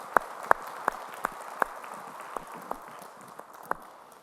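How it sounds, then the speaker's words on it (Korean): Faint, scattered hand claps from a church congregation during a Sunday worship service, a few sharp claps at first, then thinning into sparse, irregular ones. "우리 찬양을 받으실 주님께 영광의 박수 올리겠습니다."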